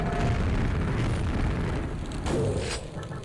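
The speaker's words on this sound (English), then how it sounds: "You step on your own grenades," A grenade blows up in the video game Quake: Scourge of Armagon with a loud, booming blast right at the start. The rumbling roar fades over about three seconds, and a smaller burst comes near the end.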